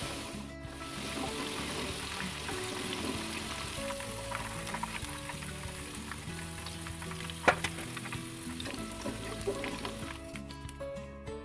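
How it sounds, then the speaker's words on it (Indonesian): Potato pieces deep-frying in hot oil, the first of two fries until cooked, giving a dense, steady sizzle and bubbling close by, with occasional stirring clinks and one sharper tap. "Digoreng sampai kentangnya matang, dan ini akan saya goreng 2 kali."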